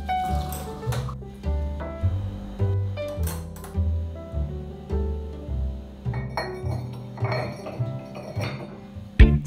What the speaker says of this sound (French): Oui, oui, vaisselle au fur et à mesure.